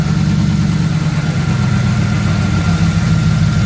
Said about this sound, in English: it's sitting out here idling again